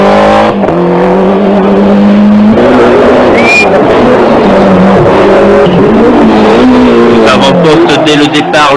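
A rally car at the 1994 Rallye Grasse Alpin, fitted with a sequential gearbox, accelerates hard along a special stage. The loud engine climbs through several gears with rising revs under continuous commentary.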